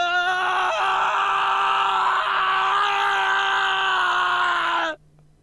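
A long, loud, sustained scream from a character in the video game Hundred Line Last Defense Academy holds steady for about five seconds before cutting off abruptly.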